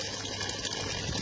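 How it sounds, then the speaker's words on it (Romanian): Dirty black water gushing from a tap in Bordeasca, a steady close rushing flow that fills the whole short stretch without pause. "Uitați apa de la Bordeasca, ce fel curgi."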